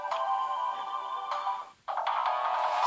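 Phone ringtone from the game Steins;Gate 0 on PS Vita, a steady electronic melody that briefly cuts out and then resumes, playing alone without talk.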